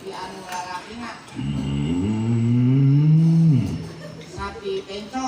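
A man imitates a bull mooing with one long, deep, drawn-out low call lasting about two seconds. Crowd chatter and laughter surround it in a lively comedy setting.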